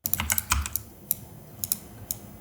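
A keyboard typing sound effect used in a short-form edit: about a dozen crisp, irregular key clicks in quick bursts, close and dry, with no voices.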